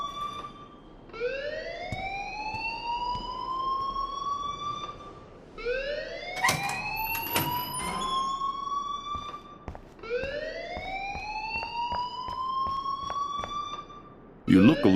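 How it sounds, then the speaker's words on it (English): An alarm sounds in the video game Life is Strange, a rising wailing siren that sweeps upward and holds in three repeated cycles about four seconds apart, loud and prominent, with sharp clicks and bursts between cycles. "please turn off that alarm since that's your job"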